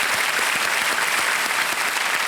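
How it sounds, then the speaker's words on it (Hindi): Steady, dense applause from a large audience fills the whole stretch, loud and even with no pauses. "तालियों के साथ इनका एक बार फिर स्वागत।"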